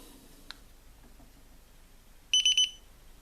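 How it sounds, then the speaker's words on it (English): A Dazzne P2 Plus action camera powering on, three quick high-pitched electronic beeps in a row near the end, after a single faint click, otherwise quiet. "as you heard, 3 beeps when you turn on."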